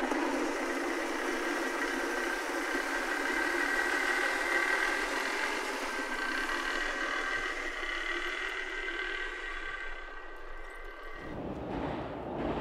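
A low, continuous rumbling drone from trains, picked up through a Korg CM-300 contact microphone, with a steady mechanical hum, heavy and vibrating, changing tone near the end.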